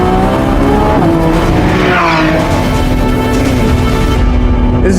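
A Lamborghini Revuelto V12 supercar powers out of a four-wheel slide on track, its engine loud and close with rising and falling harmonic tones while the tires squeal steadily throughout.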